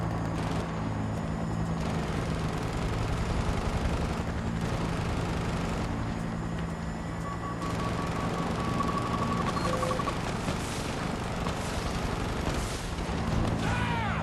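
Military helicopter in a Battlefield video game, a continuous rotor roar blended with dense battle noise, distant booms and gunfire, loud and steady throughout with no one talking.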